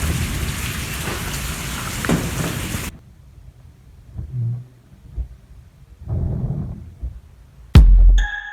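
Rain hisses steadily for a few seconds, then cuts out, leaving a quiet background of scattered low thumps and a sharp knock near the end.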